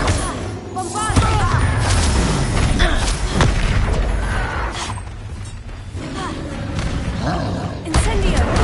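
A Bombarda explosion spell in the video game Hogwarts Legacy, heard as heavy booming blasts and crashing impacts in a loud, dense combat mix with steady background game sound throughout.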